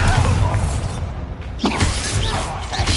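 A Bombarda spell blast in Hogwarts Legacy bursts as a dense, crashing explosion with a sharp impact partway through, layered over loud, continuous game action noise.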